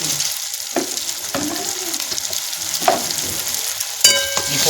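Noodles with chutney and salt sautéing in a hot pan, a steady close sizzle broken by a few sharp spatula scrapes and clinks, with no talking.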